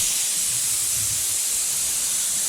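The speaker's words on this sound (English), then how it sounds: "I'm going to spray at an angle to cover the top edge" A steady, continuous hiss of paint spraying from a spray gun onto skirting boards, constant in level throughout with no pauses.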